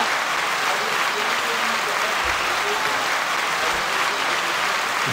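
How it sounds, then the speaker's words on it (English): Canned applause effect played during a podcast conversation, a steady dense wash of clapping and light crowd noise lasting several seconds at even loudness. "Get the claps."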